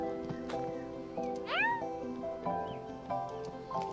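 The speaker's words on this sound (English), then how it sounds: "Yay, Kitty is content" In the farming game Staxel, a cat gives a short rising meow, clear and close, over a soft repeating melodic game music loop.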